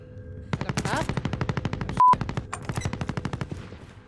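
Machine gun fire in the Call of Duty video game, a rapid, evenly spaced burst of shots that runs for about three seconds at a moderate level, with a brief tone cutting in partway through and a few quieter sounds near the end.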